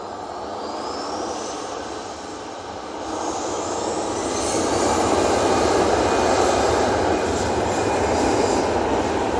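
Airliner jet engines roar at Manchester Airport as an EasyJet jet moves along the runway, a broad, steady rumble that swells louder over several seconds, heard outdoors without talk.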